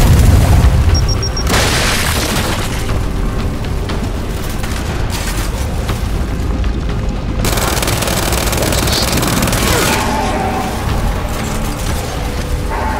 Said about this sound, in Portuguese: Granada de fragmentação lançada.